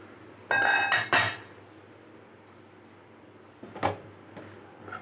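A lid is lifted off a cooking pot of simmering spinach greens with a clattering metallic rattle and clinks, then a quieter clink of pot or utensil follows in an otherwise quiet kitchen.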